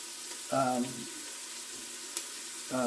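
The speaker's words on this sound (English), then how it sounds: "we're just going to keep an eye on those onions while they saute" Onions sautéing in an Instant Pot, a soft steady sizzle throughout with a voice talking over it in short bursts.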